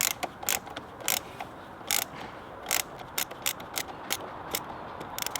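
Ratcheting clicks from tightening a Mountune air box fitting on a Ford Fiesta ST, a close series of sharp mechanical ticks in irregular bursts over a low background hum, with no talking.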